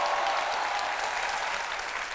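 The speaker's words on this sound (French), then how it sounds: "Je voudrais qu'on l'applaudisse très" Studio audience on a midday TV talk show applauds a guest, a brief, full, even burst of clapping at steady loudness throughout.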